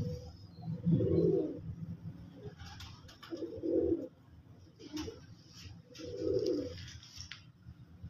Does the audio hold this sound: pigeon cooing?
yes